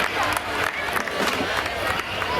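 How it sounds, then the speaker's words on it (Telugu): An audience at a local event in Mancherial applauds to welcome guests, dense crowd clapping mixed with murmuring voices that continues steadily throughout. "వారందరి కోసం కూడా ఒకసారి గట్టిగా చప్పట్లతో మనం వాళ్ళందరూ కూడా ఆహ్వానం పలుకుదాం"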